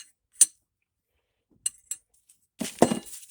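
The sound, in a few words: wrench and socket clinking on a Mopar power steering pump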